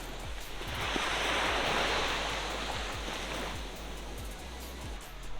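Gentle surf washing onto a black volcanic sand beach in a small sheltered bay, a steady hiss of breaking water with low rumbling swells and some wind buffeting the microphone, no voices.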